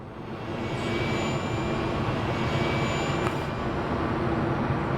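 A propeller airplane lands at about 150 km/h in the video game Soviet Republic, its engine roar loud, steady and close for the whole stretch with no voices.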